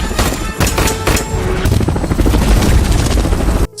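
A helicopter in an action film rooftop escape scene, a loud continuous rotor roar layered with booming impacts and bursts of gunfire, dense and close throughout before cutting off abruptly at the end.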